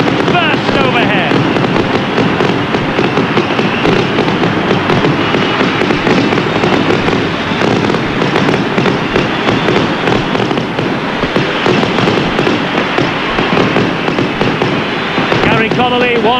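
Fireworks burst overhead at a rugby league match amid a roaring stadium crowd, with dense crackles and pops running continuously under the loud cheering.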